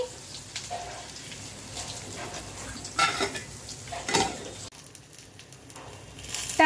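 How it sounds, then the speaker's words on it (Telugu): Peanuts and green chillies frying in a pan with steady sizzling and occasional stirring scrapes, a few louder stirs, with no talk. "కొన్ని పల్లీలు పచ్చిమిర్చి అయితే వీటిని ఫ్రై చేసుకుంటున్నానండి"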